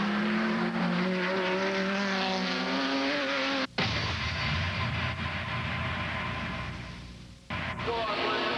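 A Lister race car with a V12 Jaguar engine competes at Monza in the 1999 FIA GT Championship, its engine note loud and changing pitch, with a sharp cut and a shift as it passes and recedes.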